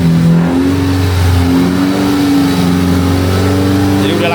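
A BMW N20 four-cylinder engine, freshly refitted in an F30 after a long time off, idles steadily during warm-up with a slight rise in revs partway through, loud and close, with a voice talking over it.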